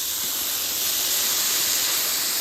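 Vegetables sautéing in a hot pan for veg noodles give a steady, loud sizzling hiss that runs without a break, with no voices over it.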